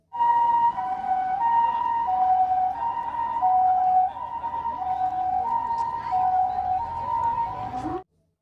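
A toy ambulance car's electronic two-tone siren wails in a steady alternating pattern, close and fairly loud, then cuts off abruptly at the end.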